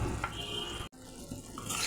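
Ground turmeric, chilli, salt and cumin are fried in a pan for a prawn malai curry, with a close, steady sizzle and soft stirring scrapes, interrupted by a momentary silent gap.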